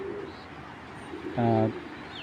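A pair of grizzle pigeons cooing nearby, a brief throaty coo rising out of a steady background hum, close and moderately loud with no talk.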